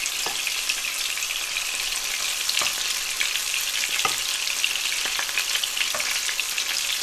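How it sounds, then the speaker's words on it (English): Chilies frying in hot oil with softened tomatoes for a brown lentil daal, a loud, constant crackling sizzle with scattered sharp pops, close and without talk. "Let them fry for a second"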